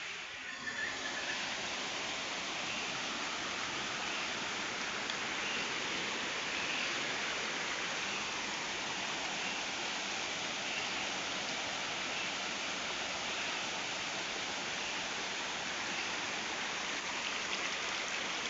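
Continuous roaring rush of the rising, flooded Aghanashini river in the Malnad rains, steady and loud throughout with no pauses.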